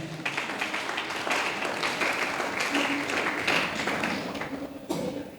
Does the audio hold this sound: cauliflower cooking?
no